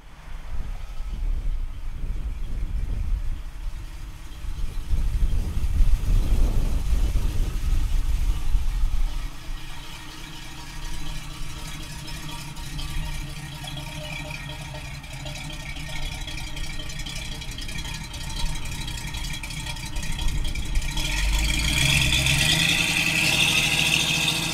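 A 1968 Chevrolet Camaro engine rumbles and revs with a deep, throaty exhaust note, rising in bursts early on then settling into a steady drone with some rattling.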